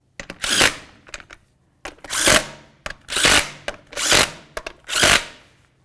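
A power tool runs lug nuts onto a Buick LeSabre wheel in five separate sharp bursts of whirring and rattling, evenly spaced and close, with short gaps of quiet between them.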